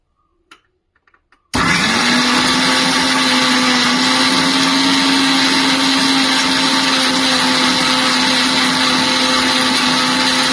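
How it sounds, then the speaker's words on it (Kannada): A mixer grinder grinding soaked dry fruits starts abruptly and runs with a loud, steady motor whine and churning rattle, grinding continuously without pause. "ಈಗ ಇದನ್ನ ಒಂದು ಮಿಕ್ಸರ್ ಜಾರ್ಗೆ ಹಾಕೊಂಡು ಗ್ರೈಂಡ್ ಮಾಡ್ಕೊಳ್ಳೋಣ."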